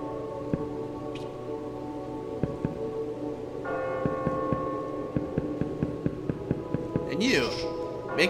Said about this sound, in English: The bells ring. They beckon your arrival.